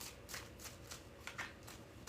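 A deck of cards shuffled by hand, several soft riffling bursts in a quick uneven rhythm, close and quiet with no talking.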